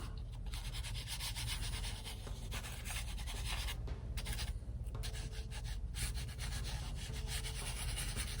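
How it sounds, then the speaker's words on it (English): White pastel stick rubbed into a drawing of a house in a landscape, a steady dry scratchy rubbing that continues close up and fairly loud throughout, with short pauses, no talking. "And I'll rub in some white also."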